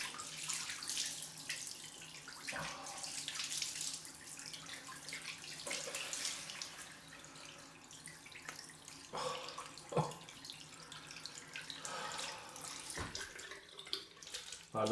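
Cold water runs from a bathroom tap into a sink for a face rinse after a shave, a quiet continuous splashing flow with a few small splashes and clunks, fairly faint.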